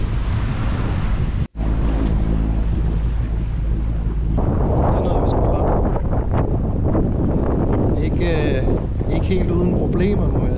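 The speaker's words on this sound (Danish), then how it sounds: "vinden den er simpelthen for stærk, at det ikke kan lade sig gøre" Strong wind buffets the microphone aboard a Maxi 95 sailboat at sea, a loud continuous roar with rushing waves, steady apart from one brief dropout, and faint voices within.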